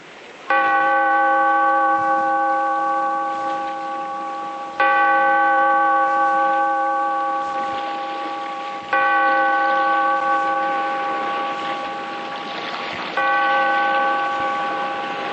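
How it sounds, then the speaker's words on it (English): A heavy bell tolls four times at slow, even intervals, opening an old radio drama; each loud, ringing strike hangs and decays before the next one sounds. "Bellkeeper, toll the bell"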